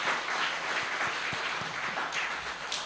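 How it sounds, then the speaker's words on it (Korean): A church congregation applauding during a Sunday service, a steady, moderately faint patter of many hands clapping together throughout, with no talk over it. "우리 하나님께 영광의 박수를 올려드리도록 하겠습니다"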